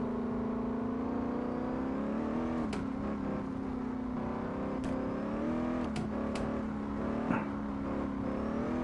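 A Mustang engine in the video game CarX Drift Racing Online drones and revs steadily at close range, its pitch rising and falling slightly, with a few sharp clicks along the way.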